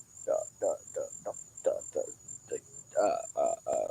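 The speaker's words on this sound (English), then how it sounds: "I hear crickets." Steady insect chirping rises and falls in short repeated pulses, with a faint high whine running constantly above.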